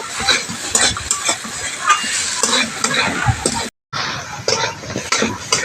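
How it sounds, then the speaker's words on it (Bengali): Crab pieces that were fried earlier stir-fried with spices in a pan for a spicy oil crab dish, with a loud continuous sizzle and frequent scraping stir strokes, cut by a brief silence partway through. "এবারে ভেজে রাখা কাঁকড়া মাছটা দিয়ে দেব, দিয়ে একটু কষিয়ে নেব সব কিছুর সঙ্গে"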